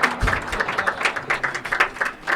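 Loud, steady applause for the winner, a quick patter of many hands clapping close by with no break, lasting a couple of seconds.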